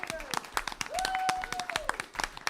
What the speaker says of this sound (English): I'd like to give the audience an applause and the candidates an applause.